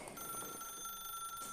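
A telephone rings in The Stanley Parable video game, a thin electronic warble with steady tones that lasts about a second and a half, fairly quiet and alone.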